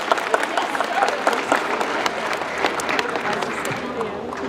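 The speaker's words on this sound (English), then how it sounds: "Let's give him a great big round of applause." A middle school audience gives a round of applause for a former basketball player, with dense, steady clapping from many hands throughout and voices mixed into the crowd noise.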